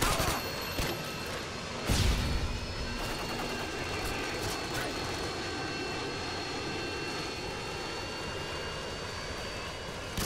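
A Harrier jet drones overhead across a battle map in a video game, a sustained engine whine with a sharp burst of gunfire-like impact near the start and scattered pops, and muffled voices talking underneath.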